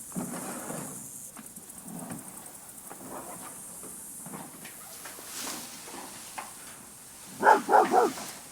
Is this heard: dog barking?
yes